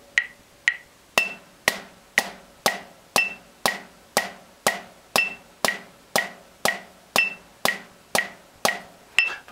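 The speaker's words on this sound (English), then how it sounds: "double stroke roll, which would sound like this." Even, slow double stroke roll strokes on a rubber practice pad keep a steady pulse in time with a clicking metronome, with no voices.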